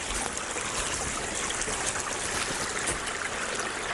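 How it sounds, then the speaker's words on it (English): A steady rush of flowing water, a woodland stream running continuously and fairly loud with no pauses, in very wet conditions. "Got water flowing from everywhere."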